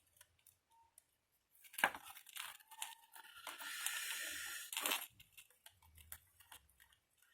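Quiet handling clicks, then a piece of adhesive tape is pulled and torn with a sustained rasping rip lasting about two seconds, followed by soft fiddling while paper is consolidated for a mini album.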